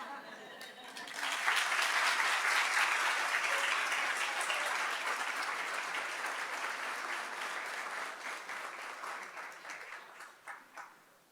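An audience at a women's sports honors breakfast breaks into a long round of applause, rising quickly to a full, dense clapping that holds steady, then thins into scattered claps at the end.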